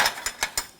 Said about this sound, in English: Once you get it loose, you can switch to a ratchet wrench.